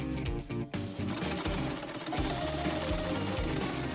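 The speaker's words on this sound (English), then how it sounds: "Sew a velvet case." A sewing machine stitches a velvet case, running in a fast, steady mechanical rhythm throughout with a brief dip in speed early on, fairly loud and close.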